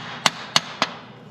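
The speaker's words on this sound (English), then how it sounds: "use a rawhide hammer or a soft hammer or some type to get it" Rawhide hammer tapping a shifter pawl on a John Deere B tractor: three sharp, short knocks about a quarter second apart, close and crisp, followed by quiet.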